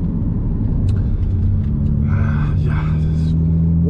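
The McLaren Artura's engine rumbles low and steady close by, a deep continuous drone with no revving and no talking over it.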